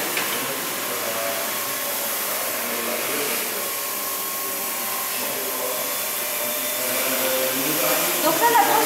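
A new floor-cleaning machine being primed and run, giving a steady, loud motor whine and whoosh that holds for several seconds and swells slightly near the end, with little speech.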